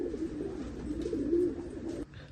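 Low, steady cooing of a pigeon, a short-beaked flown loft bird, rolling on in a continuous murmur close by before ending abruptly near the end.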